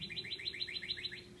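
A pet bird chirps in a rapid, evenly spaced series of about eight shrill, rhythmic tweets, clear and fairly close, in a garage where an engine is being torn down.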